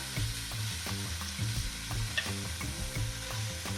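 Short ribs and sausage sizzle in a pot as ravioli sauce gets started, a dense close crackle with rhythmic scraping and stirring knocks and no talking.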